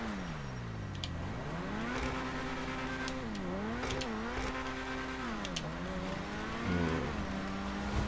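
A high-pitched sports car engine in GTA 5 revs and shifts through gears continuously, its pitch sweeping up and down over a steady roar, close and loud.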